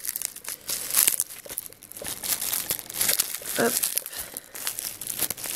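Crinkling wrapping paper and tearing as a gift package from a swap is pulled open, with close, busy, continuous rustling and a brief spoken word.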